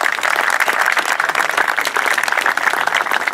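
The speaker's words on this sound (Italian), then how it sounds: "facciamo un grosso applauso" Audience applause at an international peace award ceremony, steady dense clapping from a large crowd throughout, moderately loud and continuous with no voices standing out.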